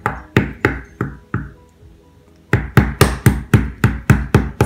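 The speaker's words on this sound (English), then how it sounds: "take your cutting board and then a rock and just bash it until you hear a crack" A rock bashes an acorn on a cutting board in sharp, close, rhythmic knocks: a run of five strikes, a short pause, then a faster run of about nine hard hits.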